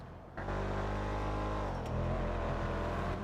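A car engine in a video game revs up after a short quiet start, then holds a steady, loud drone with a slight pitch rise.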